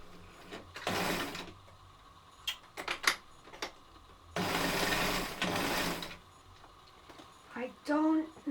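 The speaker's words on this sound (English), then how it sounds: "I don't like sewing on top of the pins." A sewing machine stitches fabric for panty liners in short, rapid whirring bursts separated by pauses, close and clear, with small clicks between runs.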